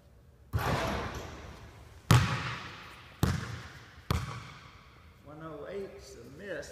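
A basketball misses its shot and bounces four times with a loud thud each time, the gaps getting shorter as the ball settles, followed by a short stretch of talk.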